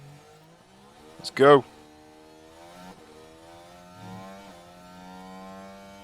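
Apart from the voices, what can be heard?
F1 car engine accelerating, video game F1 Manager 2023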